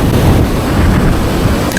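Strong wind buffeting the microphone on a coast where bass fishing is under way, a loud continuous roar with low rumbling gusts that may hide surf, no voices heard.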